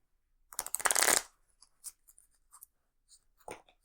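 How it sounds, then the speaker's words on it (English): A deck of playing cards for a Marvel Legendary board game gets a quick side bridge shuffle: one loud riffling burst, then a few soft taps and riffles as the cards settle, close and quiet with no talk. "Quick side bridge shuffle"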